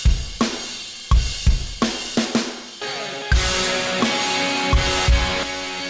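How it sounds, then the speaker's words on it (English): A drum kit plays a shoegaze groove with no other instruments, spaced kick and snare hits giving way to washy, almost clipping cymbals in the second half, loud and close. "But by itself, the kit just sounds like this."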